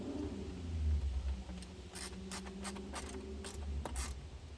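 Screws in the back of a car armrest panel being tightened with a multi-bit screwdriver set, a series of quiet clicking and ratcheting ticks over low background hum, close and faint.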